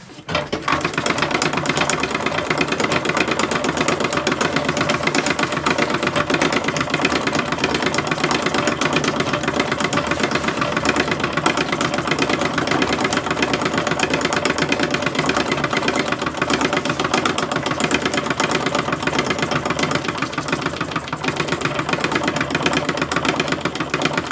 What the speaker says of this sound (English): so we're sewing the front and the back together